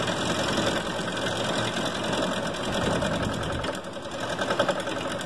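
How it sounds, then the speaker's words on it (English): A 5/8 bowl gouge cuts the outside of a square Sipo mahogany bowl spinning on a wood lathe, giving a steady whirring, scraping hum that runs unbroken throughout without speech. "I'm just using my 5/8 bowl gouge to try to shape the outside"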